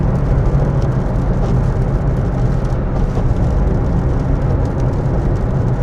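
Steady, loud road and engine roar from inside a Toyota Aygo cruising on a UK motorway, broadband tyre and wind noise holding constant throughout with no talking.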